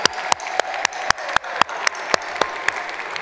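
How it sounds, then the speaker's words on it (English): Audience at a 2023 high school graduation in East Anchorage applauding for the seniors, rhythmic clapping with sharp regular hand claps over a softer wash of crowd applause. "Seniors, let's clap for them."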